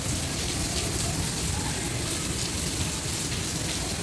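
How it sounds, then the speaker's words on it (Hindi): Heavy stormy rain pours down in a dense, steady roar, loud and unbroken from start to finish with no voices. "तूफानी बारिश है, तूफानी।"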